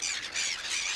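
Seagulls eating chips squawk in a brief, harsh cluster of shrill calls that run close together and fairly near.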